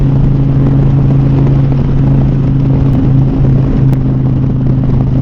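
An Indian Pursuit motorcycle engine drones steadily while being ridden, loud and close with constant wind noise and small shifts in pitch as the throttle changes.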